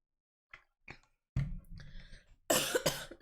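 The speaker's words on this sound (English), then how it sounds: "Sorry, I did cough then." A couple of faint clicks, then a single throaty cough followed by a louder, sharper cough up close.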